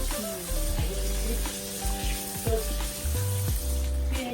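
Crispy bites fry in a pan over a high flame, a steady close sizzle with bubbling and occasional stirring clatter running throughout, no voices.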